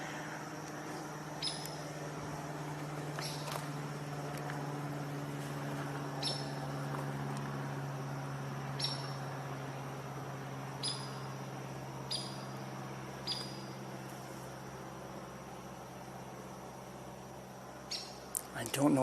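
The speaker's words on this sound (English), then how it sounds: "I'm hearing this this woodpecker, either a hairy or a downy, is constantly calling for whatever reason." A hairy or downy woodpecker calls repeatedly on a wooded trail, sharp brief high notes spaced every second or two against a low steady hum, with no one speaking over them.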